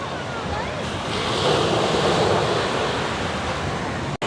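Ocean waves break and wash onto a beach in a steady roar of surf mixed with wind buffeting the microphone, fairly close and continuous, with no clear talking.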